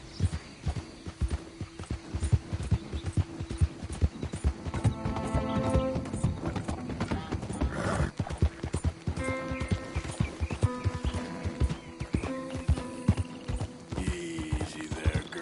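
Horse hooves clip-clop steadily through Red Dead Redemption 2 on PS4 Pro, a brisk, even rhythm running the whole time alongside mechanical clicks and a low game-music drone.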